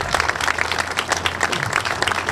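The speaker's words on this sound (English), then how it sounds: "Please give a round of applause." A crowd at a political campaign launch in Brampton applauds loudly and steadily, a dense wash of many hands clapping close by, with a faint voice underneath.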